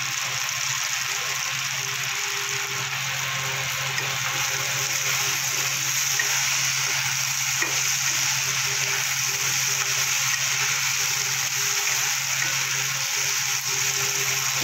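Pumpkin and potato fry in a pan, a steady, even sizzle and crackle running unbroken throughout with a faint constant hum beneath.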